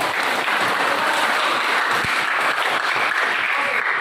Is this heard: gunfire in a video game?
no